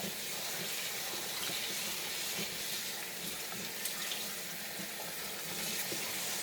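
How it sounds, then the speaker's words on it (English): Tap water pours steadily into a pot of rice being rinsed in a home kitchen, a constant soft hiss and splash with no talking. "Now, final rinse with some filtered water."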